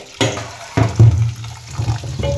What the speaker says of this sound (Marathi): आता आपण ती 2 ते 3 पाण्याने स्वच्छ धुवून घेणार